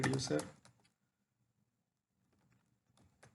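A file name is typed on a computer keyboard: a quick close burst of keystrokes, then near silence, then a few more faint clicks at the end.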